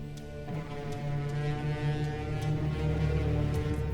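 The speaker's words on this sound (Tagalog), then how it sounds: "Iyon ay tunog ng babala mula sa Hatoria." A warning horn sounds from the realm of Hatoria in a fantasy drama, a loud, steady, deep blaring tone held continuously like a foghorn, with faint brief clicks above it.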